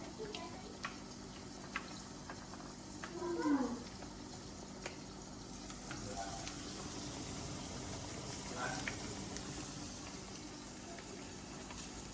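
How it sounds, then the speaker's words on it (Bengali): Battered jute leaf fritters fry in hot oil with a steady, fairly quiet hiss that continues throughout, broken by a few faint ticks and small background noises. "তেল গরম হয়ে গেছে আমি একটু পাট শাকের বড়া দিয়ে দেবো"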